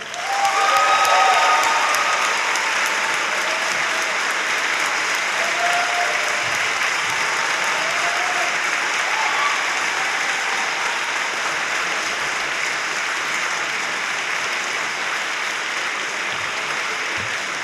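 A large audience gives sustained applause for Seth MacFarlane, the 2011 Harvard Humanist of the Year, swelling quickly and then holding as a dense, even roar of clapping for well over fifteen seconds, with faint cheers at the start.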